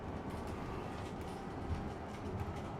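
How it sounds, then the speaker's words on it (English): An articulated bendy bus drives along, giving a steady, continuous rumble with faint rattling that sounds much like a train carriage, close and even throughout. "Oh, it's like a train. Oh, it's a bendy bus."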